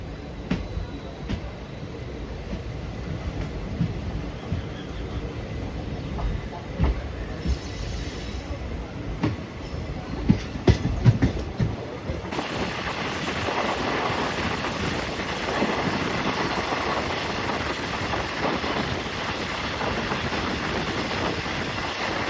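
Kuvempu Express pulling away from Sagara station on the Shivamogga–Hassan–Mysuru line, a steady rumbling roll with wind buffeting the microphone, growing louder and rougher as the train gathers speed.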